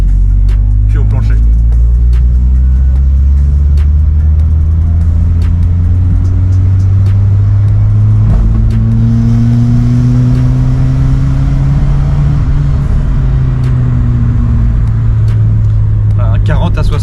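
A Peugeot 106 Quiksilver accelerates at full throttle in second gear from low speed, its engine note rising steadily and loud through the revs from inside the car, with someone talking over it.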